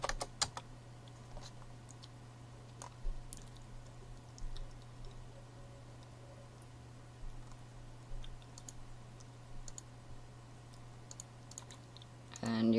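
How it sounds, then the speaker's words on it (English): Soft, close keystrokes tap out a password on a computer keyboard. The taps are sparse and irregular over a steady low hum. "And then type in your password again."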